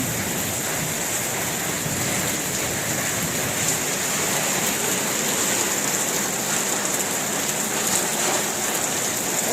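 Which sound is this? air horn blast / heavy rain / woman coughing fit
heavy rain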